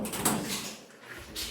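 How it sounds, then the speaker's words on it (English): A door in a lobby area of an abandoned hospital is pushed open, giving a brief scrape and knock against a hollow, noisy room background. "Let's try this door."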